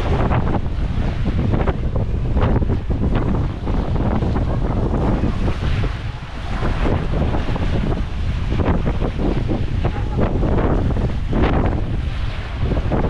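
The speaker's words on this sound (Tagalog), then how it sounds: "Lakas ng hangin. Kaya malakas yung alon, no?" Strong wind buffets the microphone over steady surf and breaking waves on a beach at Patar, Bolinao, Pangasinan, a loud continuous roar with no talk.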